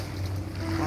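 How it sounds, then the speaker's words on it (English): Water lapping along the shore of a mangrove-lined river estuary near a pier, a steady low wash with wind rumble filling the brief moment, no talking. "The water laps against the shore."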